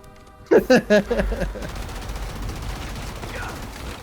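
Assault rifle fire in a Halo game cutscene: a few loud, closely spaced bursts up front, then a sustained crackle of rapid shots trailing off underneath as the action continues.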